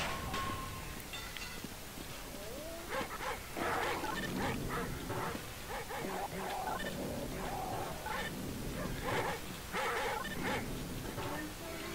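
Dogs barking in the video game They Hunger: a busy string of barks, yips and whimpers, some overlapping, loud and close over a noisy game background.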